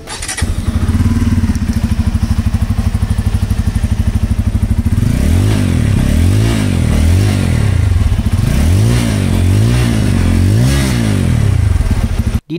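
A Bajaj Pulsar N250 motorcycle engine idles with a loud, throbbing exhaust, then revs up and down repeatedly in several bursts, close by.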